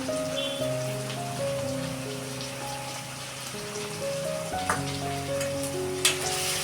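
Tomatoes, onion and soybean burji sautéing in a pan, a soft, steady sizzle with light crackles, under sustained background music.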